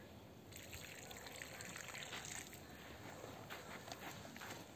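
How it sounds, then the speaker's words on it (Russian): Water poured at the roots of cucumber plants in a garden bed: a faint, steady trickling and splashing that continues without a break, heard quietly at a distance. "Сначала пролью вот таким образом на листья, чтобы вода не попадала."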